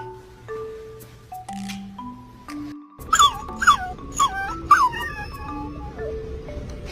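A dog whimpers and lets out a series of sharp, high yips, loud and close, with several quick cries bunched together in the middle of the clip.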